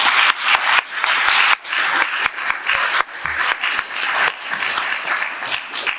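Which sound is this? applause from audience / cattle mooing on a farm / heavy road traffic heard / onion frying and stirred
applause from audience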